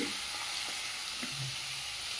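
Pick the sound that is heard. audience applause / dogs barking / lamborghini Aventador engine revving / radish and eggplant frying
radish and eggplant frying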